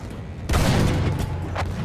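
Gunfire in the video game Battlefield 1, a sudden loud burst of shots after a quiet start, sustained and dense, with another sharp report near the end.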